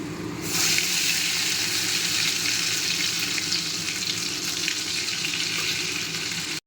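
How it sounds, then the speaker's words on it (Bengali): Spice paste for a Bengali fish curry sizzles steadily in hot oil, a loud continuous crackling fry that holds through the whole stretch without any voices. "মাছের ঝোলের জন্য যে মশলাটা তৈরি করেছিলাম সেটা দিয়ে এখন কষতে দিয়েছি আর কি।"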